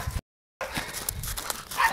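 A Jagdterrier gives a couple of short, close yips and whimpering barks in quick succession, broken by a brief dropout, with light movement noise around them.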